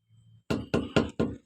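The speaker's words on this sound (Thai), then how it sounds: "เคาะยางครับ" Four sharp, evenly spaced knocks struck on the side of a big truck's tire during a pre-trip check, close and loud, each a dull thump with quick decay and no talk over them.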